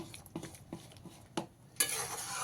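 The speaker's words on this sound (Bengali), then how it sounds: "দুটো কাঁচা লঙ্কা চেরা দিয়ে দিলাম ভেজে রাখা নারকল কাজু কিশমিশ দিয়ে দিলাম দিয়ে ভালো করে মিশিয়ে নেব" Chana dal stirred with slit green chillies, fried coconut, cashews and raisins, a spoon scraping and tapping a pan in several light strokes, then a louder broad hiss near the end, quiet and close.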